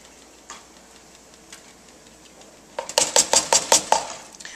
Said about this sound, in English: So we stir while we add our cheese.